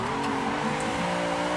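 Tires squeal steadily on a car sliding sideways through a drift in a sim racing game, a sustained, loud screech over a droning engine with no talk.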